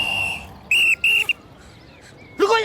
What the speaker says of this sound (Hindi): पिछले सिग्नल से सीटी पे सीटी बजा रहा हूँ